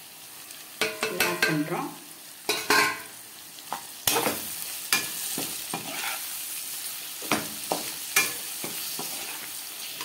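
Chili, coriander and masala powders sizzle in hot oil for a Madurai-style chapati kurma, with irregular spoon stirs and clanks against the pan and a short spoken phrase.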